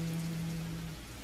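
Rain falling steadily as a soft, even hiss on a quiet night outside a small shop, with a faint low tone fading partway through.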